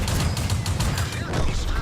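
Tank gun fire in World of Tanks: rapid rattling bursts of shots, loud and dense, forming a continuous chattering volley with a slight pause near the end.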